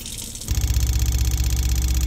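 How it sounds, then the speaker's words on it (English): A 12-volt Seaflow diaphragm water pump behind the fridge of a Ford Transit camper van kicks on after a brief quiet moment and keeps up a steady, low, rapidly pulsing hum. "The water is pumped from a 12-volt diaphragm seaflow pump, which is behind the fridge, and it is super quiet."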